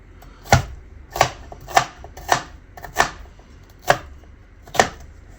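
A knife dicing a sweet pepper on a cutting board, giving seven sharp, evenly spaced chops close up, each a crisp knock against the board, with no talking.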